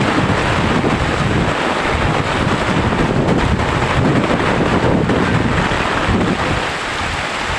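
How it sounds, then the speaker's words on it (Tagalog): Strong wind roars and buffets the microphone continuously during a flood, a loud broadband rush with churning floodwater noise underneath and no voices. "Malakas pa yung hangin."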